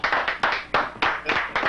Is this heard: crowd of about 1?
yes